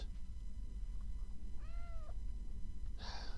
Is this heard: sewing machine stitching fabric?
no